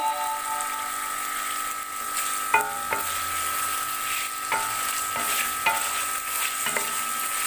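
Chicken pieces frying in a pan for matar gosht, with a constant oil sizzle and occasional scraping stirs of a spoon against the pan, close by and with no one talking.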